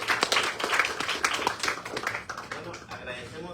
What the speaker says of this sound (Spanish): Un aplauso para Iván.